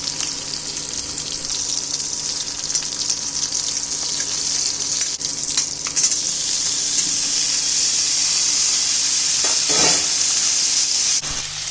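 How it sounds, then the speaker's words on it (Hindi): Cumin seeds hit hot ghee in a pan and set off a strong, continuous sizzle that stays loud and close, with light crackles and a few utensil clinks. "इस पर मैंने थोड़ा सा घी डाला है और ये डाल दिया जीरा।"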